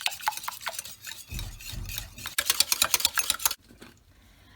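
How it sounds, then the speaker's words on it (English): Eggs are whisked in a mixing bowl for a cake batter, quick close scraping and clicking strokes in uneven bursts, briefly pausing before a final flurry. "And we will mix the eggs first. Mix it very well."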